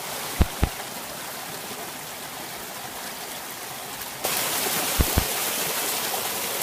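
Small outdoor stream in the Scottish countryside with toy ducks floating on it, a steady broadband rushing and trickling of water throughout, growing slightly louder partway through, with a few brief knocks or splashes.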